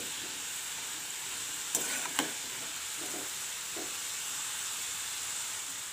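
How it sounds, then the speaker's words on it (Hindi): Besan sev chakli deep frying in hot oil, a soft, steady bubbling hiss with a couple of brief clinks and light stirring sounds partway through. "इन्हें हम पलट लेंगे और दोनों तरफ से अलग पलट करके हम अच्छी तरह से फ्राई कर लेंगे।"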